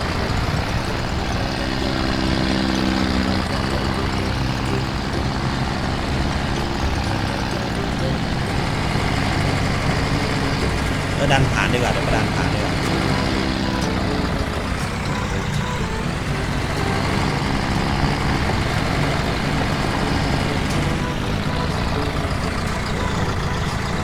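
A small tractor's engine in Farming Simulator 19 drones steadily and loudly throughout, revving and dipping as it pushes forward, with people talking over it.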